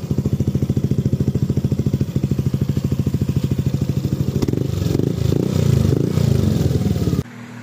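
An NMAX version 2 motorcycle with a full-open JVT exhaust pipe idles loudly up close with a fast, even putter. It then blips into a rougher, louder rev before cutting off abruptly near the end.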